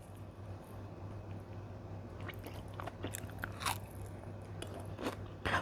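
Crunchy bites into a Dubai chocolate daifuku with a crisp kunafa filling, a series of close crackling crunches and chewing over a low steady hum, no speech.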